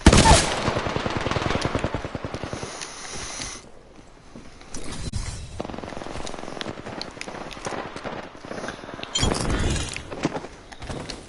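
Apex Legends firefight: dense rapid gunfire in bursts, loud and close at first, a brief lull, then more volleys and a heavy burst near the end.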